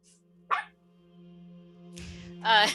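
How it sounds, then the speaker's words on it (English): A toy dog gives a couple of short electronic barks inside a game, with a steady low hum underneath and a louder burst near the end. "One of the stuff is a toy dog that barks."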